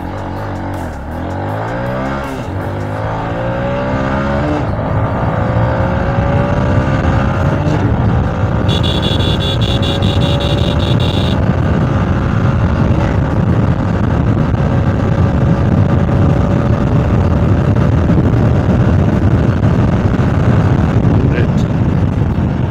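A TVS Apache RTR 160 4V motorcycle accelerates hard from a standstill toward 100, its engine note climbing through several gear changes into a loud, sustained high-speed drone with wind rush.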